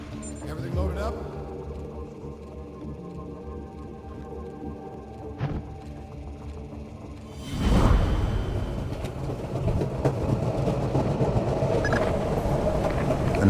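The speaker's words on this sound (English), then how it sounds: "board the train before it leaves the station and get to the driver" Train in motion from the game Splinter Cell: Double Agent, a low rumbling rush of rail cars that swells suddenly midway and keeps rolling loud and steady, with voices talking over the opening.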